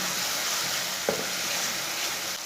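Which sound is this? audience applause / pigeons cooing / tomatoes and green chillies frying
tomatoes and green chillies frying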